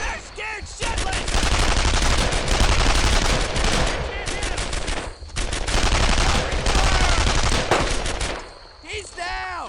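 Dense bursts of rapid gunfire from soldiers in a World War II squad shooter, Brothers in Arms: Earned in Blood, nearly continuous and loud with brief gaps, shouted commands heard over it.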